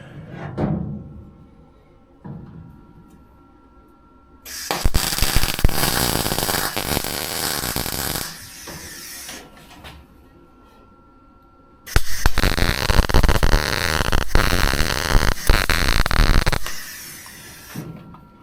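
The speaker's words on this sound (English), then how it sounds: "let's fire up a welder, weld this in place" Welder joining a replacement rocker panel on a rusted 1950 GMC truck, two loud sustained bursts of harsh crackling buzz, each several seconds long, separated by quieter shop sounds.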